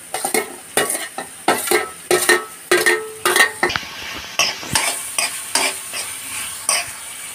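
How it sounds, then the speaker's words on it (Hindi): Capsicum, tomato and large-cut onion are stir-fried in a kadhai for kadhai paneer, with repeated rhythmic scrapes and clinks of a spoon against the metal pan over a continuous sizzle, close and fairly loud. "अब हम इसमें शिमला मिर्च, टमाटर और बड़े साइज के काटे हुए प्याज डालेंगे।"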